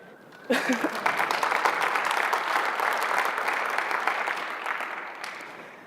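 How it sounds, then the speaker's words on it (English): An audience at a data analysis presentation starts clapping suddenly, a fairly distant, continuous round of applause that holds for several seconds before fading. "you're clapping too soon"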